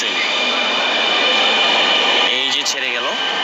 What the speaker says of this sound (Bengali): এই মুহূর্তে মিরপুর 11 মেট্রো স্টেশন ছেড়ে যাচ্ছে একটি উত্তরগামী একটি মেট্রো ট্রেন।